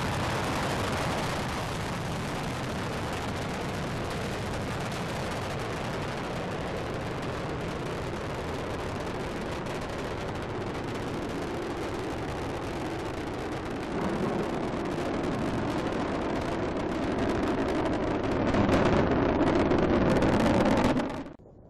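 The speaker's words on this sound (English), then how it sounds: "The shuttle has cleared the tower." Space Shuttle Discovery's rocket engines roaring at launch, a dense, continuous rumble with heavy wind buffeting that swells louder near the end before cutting off.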